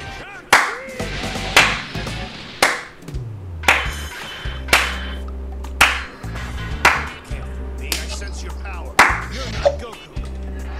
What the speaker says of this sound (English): That was me slow clapping.